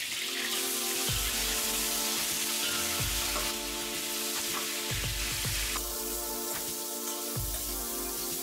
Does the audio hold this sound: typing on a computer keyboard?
no